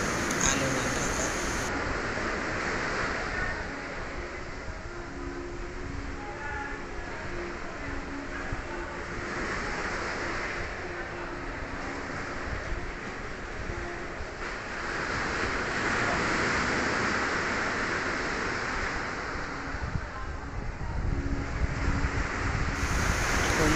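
Rough sea waves crash and wash onto the shore in stormy weather, a steady roaring surge with gusty wind noise on the microphone and swells rising and falling across the clip.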